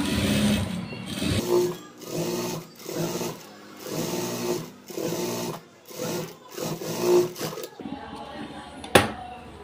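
A sewing machine runs a blouse seam in about seven steady bursts of whirring stitching, each separated by a brief pause. It is close and moderately loud, and a few clicks and a sharp knock follow at the end.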